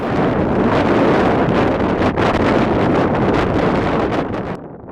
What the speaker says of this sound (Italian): Un vento assordante che difficilmente si riesce ad immaginare